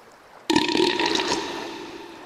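A single deep, wet monster burp erupts suddenly and loudly, then rumbles and fades over about two seconds, heard alone without talk.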